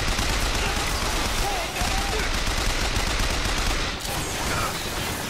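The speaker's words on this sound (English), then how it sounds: "It's kind of a firefight right now" Gunfire rattles almost without pause through a firefight in the video game Bioshock Infinite, loud and dense bursts with a brief dip near the middle and again toward the end.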